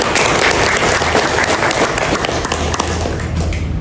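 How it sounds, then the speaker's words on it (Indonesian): An audience at a Bali police gathering with political volunteers breaks into sustained applause, a dense, loud wash of many hands clapping that continues steadily throughout. "Kita tepuk tangan dulu."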